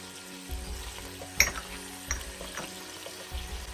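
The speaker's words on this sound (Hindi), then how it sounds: "इन सारी चीज़ों को मैं अब इस मसाले को बस मैं थोड़ा सा ही भूनूंगी" Spice masala of roasted cumin, coriander, salt, black salt and chilli frying in a pan, a soft close sizzle with a few sharp scraping clicks of stirring.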